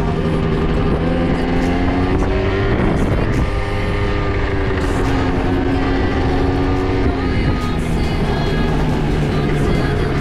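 An Italjet scooter and a Renault Scenic run a quarter-mile drag race, with a loud, close, buzzing engine drone held at high revs for the whole stretch and pitch shifts as it changes gear.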